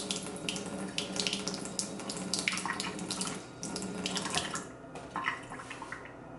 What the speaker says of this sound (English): Then you gotta put water in it.